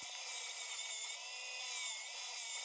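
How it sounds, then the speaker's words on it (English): Drum sander attachment on a drill sanding scrap wood, a continuous high whirring grind with a steady abrasive rasp, close and even throughout, no talking. "I then move on to this drum sander attachment for my drill"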